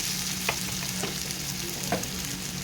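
Onions frying in prawn oil in a pan, a steady bright sizzle with a few sharp stirring scrapes and clicks, close and continuous with no voices.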